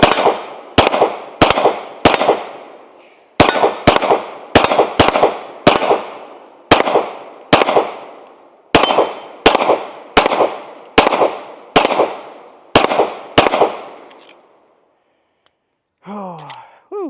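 A Sig P320 SXG pistol fires a full magazine at a range, about twenty sharp, loud shots in an uneven rhythm of quick pairs and single shots with brief ringing decays, followed by a sighing voice.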